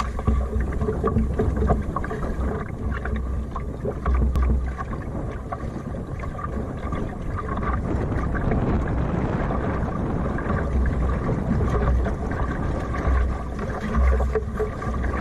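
A small sailing dinghy under main and mizzen sails moves through water, with continuous splashing and rushing sounds mixed with steady wind buffeting, and no talking.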